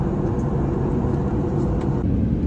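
Steady low roar of airliner cabin noise while descending toward Oslo, a continuous broadband hum of engines and airflow heard from inside the cabin with no distinct events.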